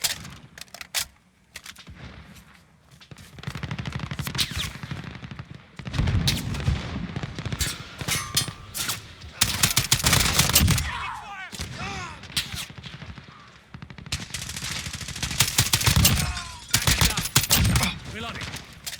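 Rifle fire from an M1 Garand in Call of Duty Warzone rings out in repeated loud volleys and bursts, mixed with other gunfire and booms across the match, with game voice callouts heard between shots.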